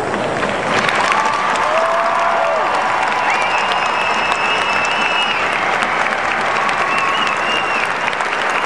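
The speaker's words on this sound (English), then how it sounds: "please give all these ladies and gentlemen a round of applause" Sustained loud applause from a large crowd at a Boston Bruins hockey game in the arena, steady clapping with some cheering, filling the whole stretch without a break.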